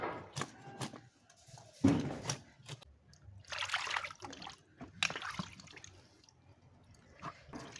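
Freshly cut fish being rinsed, with water trickling and dripping alongside splashy handling noises, fairly quiet and uneven, in a home kitchen.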